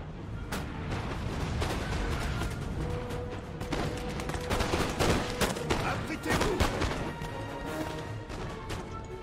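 Napoleonic battle in Napoleon Total War, Egypt campaign: dense, continuous musket volleys crackle with heavy booms of cannon fire mixed in, loud and sustained throughout, with a voice faintly underneath.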